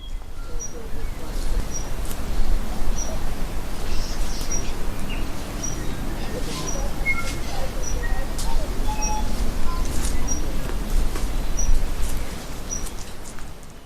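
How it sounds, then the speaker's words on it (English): Birds call and sing on a rewilding rural property in New Zealand: scattered high chirps and short whistles, some nearer and some farther off, over a constant low outdoor rumble. "I will leave you with sounds of birdsong from Peter and Jenny Hayden's property"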